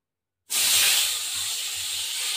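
Singi fish goes into hot oil after a moment of silence, bursting into a loud, close, steady hiss of frying and spattering that carries on to the end, with a sharper pop at the very finish.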